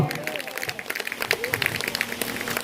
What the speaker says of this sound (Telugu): చప్పట్లు కొట్టండి ప్రియులారా